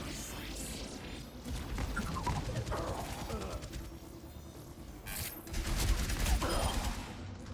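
Rapid video-game gunfire crackles in dense, overlapping volleys with mechanical clatter, staying loud throughout and swelling toward the end.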